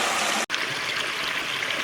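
Steady rushing of a flowing stream, broad and continuous, with a momentary dropout near the start before the water noise resumes.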